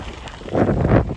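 Wind buffets the microphone in a short, loud rumbling gust while cycling uphill in the Peak District, rising and falling without any other sound.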